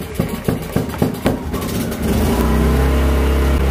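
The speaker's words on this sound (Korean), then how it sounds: "지금 저는 아까 시동을 걸었던 상태이기 때문에 런으로 돌려놓고 시동을 걸었고요" An EGI-2500 portable gasoline engine generator being started: a few sharp recoil-start chugs, then the engine catches and settles into a loud, steady mid-pitched running drone, close by with no speech.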